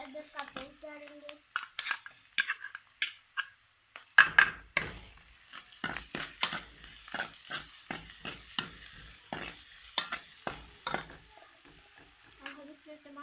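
Ginger paste stirred into frying onions and tomatoes for chana dal, with a soft sizzle underneath and repeated scraping clatters of a spoon against the pan in an irregular rhythm; a voice speaks briefly in between.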